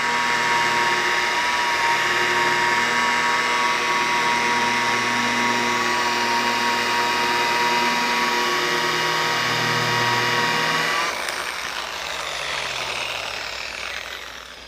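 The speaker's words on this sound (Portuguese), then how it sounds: "a gente baixa um pouquinho a rotação, né, sem pressão nenhuma, só o peso da máquina deslizando sobre a peça" A polishing machine with a foam pad glides over a car part at reduced speed and without pressure, making a steady, loud, close whine. Near the end the whine drops and winds down.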